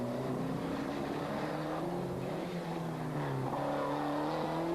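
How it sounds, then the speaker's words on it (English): Group A rally cars on a 1994 Belgian stage at Hautes Fagnes, among them a Renault, give a continuous engine roar with rising and falling revs as they pass through gears. No one speaks. "Munster driving the Renault in determined fashion, but unable to close the gap"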